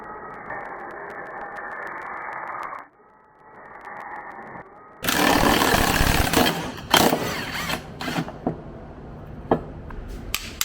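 Cutting tool slicing through welds on control arm bushings from a Ferrari 308 GTS, a steady mid-pitched drone that pauses, then turns into loud, harsh broadband grinding with sharp bursts and clanks, close up.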